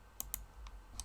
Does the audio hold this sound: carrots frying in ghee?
no